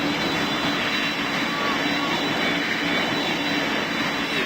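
A video game airplane's engine drones steadily and loudly throughout, a constant broadband roar with a faint tone line, while a voice talks intermittently over it.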